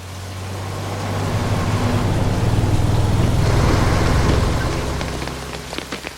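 Steady rain falls in a broad hiss that swells and fades, with a low rumble underneath suggesting passing traffic and a few faint sharper ticks near the end.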